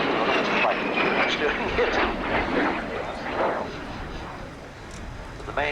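RAF Red Arrows Synchro Pair jets at the 1989 Scampton airshow roar past in a crossover break, a loud rushing engine noise that fades away, with a commentator talking over it.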